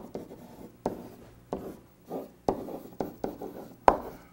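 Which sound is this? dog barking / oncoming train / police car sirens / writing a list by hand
writing a list by hand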